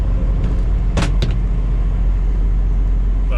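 A car drives over potholes on a rough road in New Brunswick, Canada: a constant loud cabin rumble broken by two sharp jolting thumps close together.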